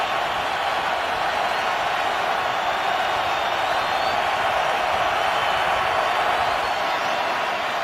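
NFL stadium crowd at a Carolina Panthers vs Houston Texans game in 2011, roaring as pressure builds on a third down: a dense, constant wall of distant cheering and noise with no breaks.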